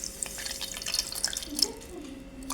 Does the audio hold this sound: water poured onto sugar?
yes